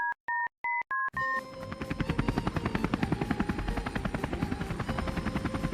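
A few short electronic beeps open, then a helicopter's rotor thumps in a fast, steady chop that stays loud and close.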